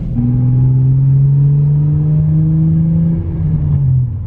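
A Nissan 350Z with a muffler delete drones steadily at close range, its exhaust note rising slightly as the engine pulls, then easing off near the end.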